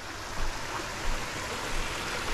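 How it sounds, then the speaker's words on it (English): Small waterfalls spill along a stream on the Charles F Lewis Trail, Ranger Mountain loop, making a steady, close, broadband rush of water with slight surges and no voices. "Got a couple little waterfall features there."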